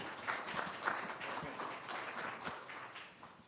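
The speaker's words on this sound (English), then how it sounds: "So let's give him a hand clap." A small audience at a veteran landlord appreciation awards event claps for a speaker being introduced. The applause is quiet and loose, with individual claps standing out over a soft wash.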